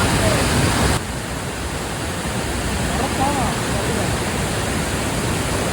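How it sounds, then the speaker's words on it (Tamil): Pepper Falls waterfall in Kodaikanal, a steady loud rushing roar of falling water that continues unbroken, with faint voices nearby. "அங்க பாரு ஃபால்ஸ்"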